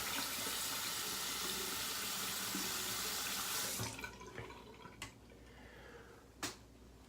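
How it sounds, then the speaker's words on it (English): Tap water runs steadily into a sink while shaving soap is rinsed off, a loud continuous splash that cuts off partway through, leaving a few faint drips and clinks in a quiet room. "now I'll rinse it off."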